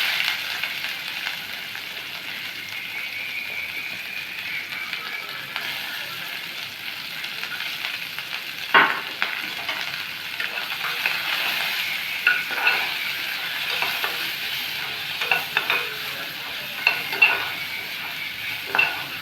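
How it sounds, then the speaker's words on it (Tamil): Green chillies, amla and coconut fry in a little oil while being stirred, giving a steady close sizzle with occasional scraping knocks of the spoon against the pan, with no talk. "அதுக்கப்புறம் கொஞ்சமாக எண்ணெயை ஊற்றி பச்சை மிளகா, நெல்லிக்காய், தேங்காயை கடைசியில் போடணும்."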